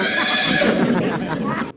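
Horse at a riding stable in Sakon Nakhon province, Thailand, gives one long, loud, close whinny lasting under two seconds, ending abruptly.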